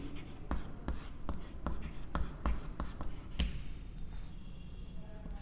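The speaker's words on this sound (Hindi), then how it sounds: "तो एक बार लिखते हैं" Chalk or a marker writes on a board during a maths lesson, with a series of crisp taps and short scratchy strokes in an irregular rhythm, close and fairly quiet, and faint murmuring beneath.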